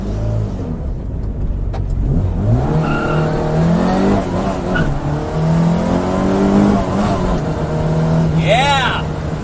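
1967 Austin Mini Cooper S driving, its small engine droning and rising in pitch through the gears, heard from inside with people talking excitedly over the steady road noise.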